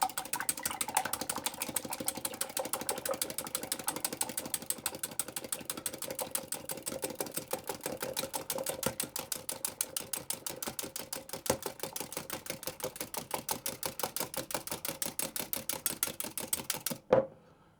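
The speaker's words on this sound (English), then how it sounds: "I'm going to take my egg white and I'm just going to whisk that" Egg white whisked in a bowl until frothy for Italian walnut cookies, a fast steady run of rhythmic clicking taps that continues for most of the time and then stops abruptly near the end.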